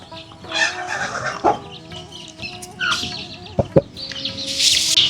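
Backyard chickens cluck in irregular bursts close by, with a brief crow-like call and scattered scratching and knocking between the calls.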